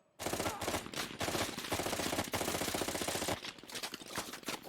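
Automatic gunfire in the video game Call of Duty Black Ops Cold War rattles in dense, continuous bursts with brief gaps, loud and sustained across the clip.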